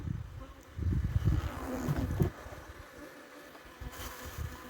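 Honey bees hum around a colony, a low droning buzz that swells loudly close by for about a second and a half, then drops to a fainter, thinner buzz with scattered light knocks.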